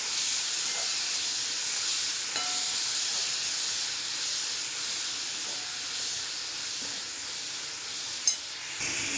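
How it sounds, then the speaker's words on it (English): Cooked banana flower sautés in a pan with peanuts and fried dal, giving a steady, dense sizzle and hiss that runs throughout without pause, with a faint stir or clink near the end. "Now we'll add the banana flour, cooked banana flour in this. And saute this for 2 minutes."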